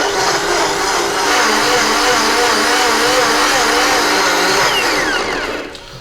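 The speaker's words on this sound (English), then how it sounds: "All we wanna do is blend till smooth." A countertop blender whirs steadily, blending tinned lychees with simple syrup into a smooth mix, loud and close for several seconds before the motor winds down near the end.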